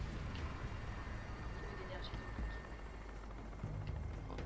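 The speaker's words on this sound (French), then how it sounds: "Ah ouais, j'ai bien compris que l'hélico est là pour me..." An in-game helicopter in Crysis Warhead keeps up a continuous rough, low rotor drone throughout, with scattered small sounds of combat on top and no clear talking.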